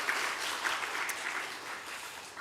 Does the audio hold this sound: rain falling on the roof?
no